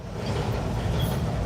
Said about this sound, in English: that's the train y'all see, subway train y'all can hear